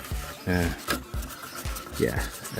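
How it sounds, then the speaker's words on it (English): An arcade circuit board for Kung Fu Master is scrubbed under running water, with short rubbing brush strokes repeating in bursts over the trickle, close by. "I'm just gonna run just water over it now, and sort of just scrub it until it's clean"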